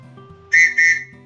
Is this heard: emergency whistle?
yes